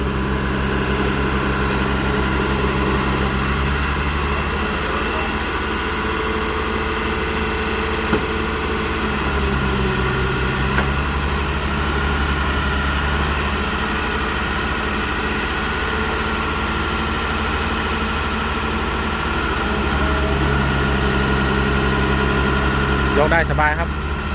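A Kubota 3-ton mini excavator engine runs steadily close by, a strong droning idle with a humming low tone that shifts slightly now and then. Someone speaks over it.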